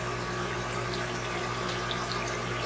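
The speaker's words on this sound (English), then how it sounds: "if you can hear and you can see the water running down this inside there" Steady, continuous rush of water draining through a PVC siphon into an aquarium sump, loud and close with no break and no voices over it.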